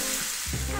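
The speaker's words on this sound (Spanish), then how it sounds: "En un sartén vamos a poner a freír tocino que está cortado en pedacitos" Chopped bacon pieces frying in a skillet, a loud continuous crackling sizzle with a brief stir-like shuffle midway.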